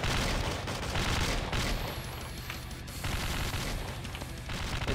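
Continuous automatic gunfire in the horror game Slendytubbies 3, as a character keeps shooting into a wall: dense rapid bursts of shots roaring without pause, loud and close, with no talk.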